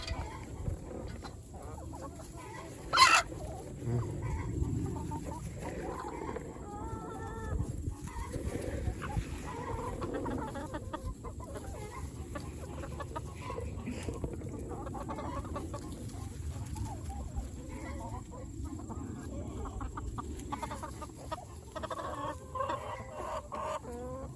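Chickens cluck steadily while eating stink bugs in an organic garden, with a busy background of fowl sounds and a brief louder click or knock early on.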